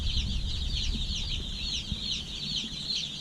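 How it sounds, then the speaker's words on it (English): A brooder full of Cornish Cross chicks peeping in a loud, continuous high chorus of overlapping chirps, with soft low rustling and thumps beneath. "They're making noise. That's a good thing. You want them to be peeping"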